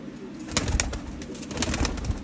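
Several Sialkoti pigeons coo softly in low, throaty bursts, close by, with light fluttering and rustling sounds among them.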